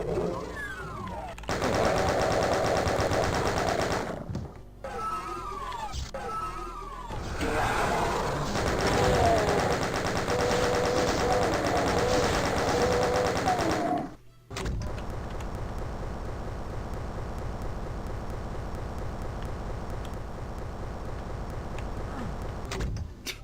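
Rapid gunfire from the 1993 Doom video game, bursts of repeated shots with clanking mechanical effects over a droning game soundtrack, loud and continuous, broken by a brief silent gap partway through.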